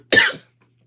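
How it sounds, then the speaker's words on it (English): A single short, sharp cough from a woman, close and clear, followed by silence. "I knew I was going to cough."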